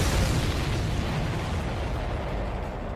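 Supply ships blowing up in the Ace Combat 7 flight video game, a loud, dense explosive roar that rumbles continuously for several seconds with no speech over it.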